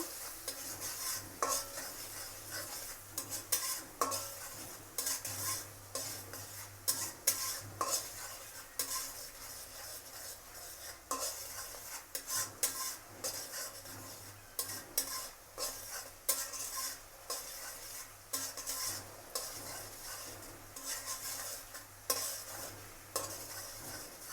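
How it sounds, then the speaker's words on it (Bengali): Potatoes stir-fried with turmeric, chilli powder and salt for a small-prawn curry, a spatula scraping and clinking against the pan steadily for the whole stretch over a soft sizzle. "মরিচ গুঁড়ো লবণ আমি ভালোভাবে কষিয়ে নেব"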